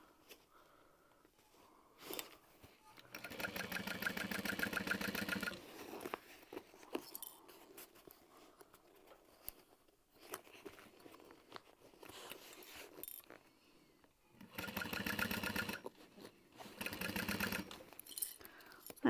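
A sewing machine stitching a handbag runs in several bursts of rapid mechanical whirring, a few seconds each, separated by quieter pauses with faint handling clicks, close up and without talk.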